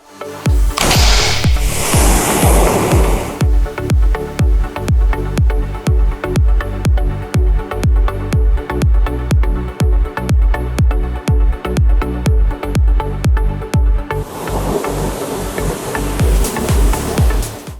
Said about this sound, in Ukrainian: достатньо просто легеньким потоком води промити мотор